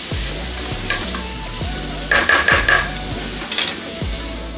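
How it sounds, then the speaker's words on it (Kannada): Green beans masala palya fries in a pan with a loud, close, steady sizzle while a spoon stirs and scrapes in repeated strokes, bringing brief bursts of crackling, with no talking. "ಈಗ ಇದನ್ನು ಒಂದು 2 ನಿಮಿಷದಷ್ಟು ಇದೇ ರೀತಿಯೇ ಫ್ರೈ ಮಾಡ್ಕೊಳ್ಳೋಣ."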